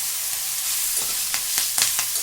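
Chillies hit hot oil seasoned with turmeric and asafoetida, giving a loud, steady sizzle close by, with a few quick scraping stirs of a spoon in the pan and no talking.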